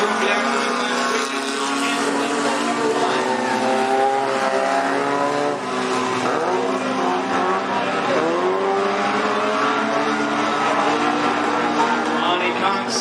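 Race cars roar around the track at Cottage Grove Speedway, engines droning and revving continuously and loud as they pass, with a commentator talking over the noise.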